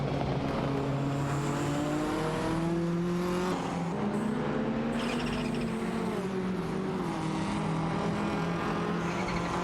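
Race cars in an AI racing video game hum and whine steadily, the engine pitch rising and falling as they accelerate, with a continuous, fairly loud drone and no voices.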